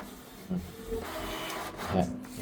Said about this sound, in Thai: เครื่องก็จะเทสออกมาแผ่นหนึ่ง อันนี้เป็นการเทสของพิมพ์